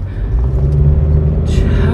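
A car drives past in street traffic, a loud close low rumble of engine and tires that swells and holds, with a brief hiss near the end.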